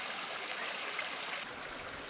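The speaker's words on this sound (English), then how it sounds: "Got a whole series of creeks coming up." A mountain creek along the trail near Deception Pass flows in a soft, steady rush of water, faint and continuous, with no voices.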